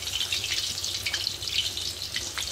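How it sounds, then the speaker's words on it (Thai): King mackerel frying in hot oil, a steady dense crackling sizzle with scattered sharp pops, close and fairly quiet, with no talk. "ได้ยินแต่เสียงน้ำมันเดือด"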